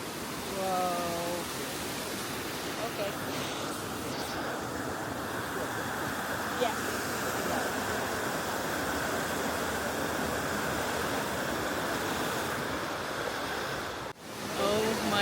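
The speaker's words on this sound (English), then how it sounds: "We made it to the waterfall." A waterfall in Morocco's Atlas Mountains roars as a steady, dense wash of falling water, loud and continuous throughout, with faint voices briefly audible over it.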